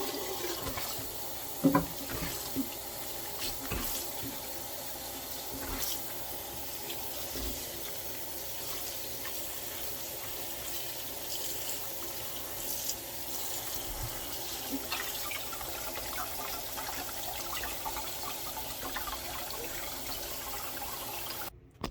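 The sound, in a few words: tap water running while rinsing dandelions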